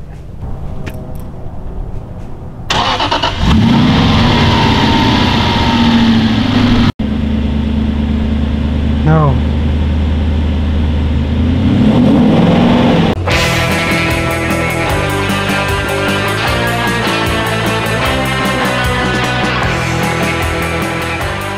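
An Aston Martin pulls up with its engine running loud and close, a deep idle rising and settling, then giving way to bright, sustained tonal sound with no talking.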